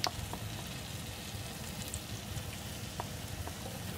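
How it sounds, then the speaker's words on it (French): Banana fritters frying in oil kept hot but not scorching, giving a steady, even sizzle with faint crackles throughout. "Et ça cuit, il faut que l'huile soit pas brûlante, mais quand même assez chaude"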